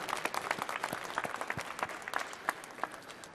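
A moderately distant crowd applauds the Greater Washington Hispanic Chamber of Commerce staff at a business expo, with scattered individual claps standing out from a steady round that carries on for several seconds.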